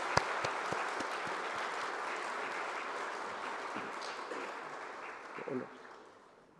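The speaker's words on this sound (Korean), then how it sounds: "앞에 나오실 때 박수해 주시기 바랍니다." Church congregation applauds steadily to welcome newly installed elders at an induction service, a dense, even wash of clapping that holds for several seconds before tapering off near the end.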